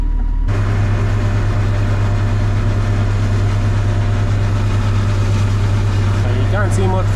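A Teagle straw blower bedding a shed for 470 cattle runs with a loud, steady low engine drone and constant rushing noise, a voice briefly heard near the end.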